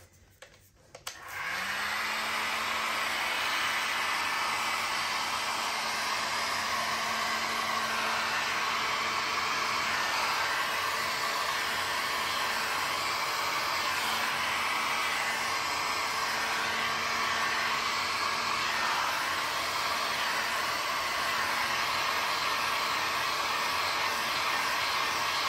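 After a brief quiet moment, a heat tool switches on and blows hot air over resin art with a steady, loud, breathy whoosh that holds unbroken to the end.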